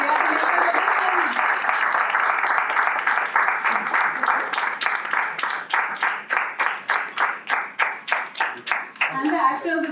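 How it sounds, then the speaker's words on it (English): A crowd at a film press conference applauds loudly, a dense wash of clapping that settles into a steadier rhythmic clap before fading as a voice comes in at the end. "Can I have a round of applause for them?"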